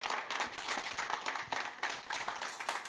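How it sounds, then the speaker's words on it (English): Scattered applause from a small audience at a press event after a federal jobs minister's announcement of support for workers, with individual claps audible in an uneven rhythm, moderately quiet and steady, with no talking. "A round of applause again for the announcement."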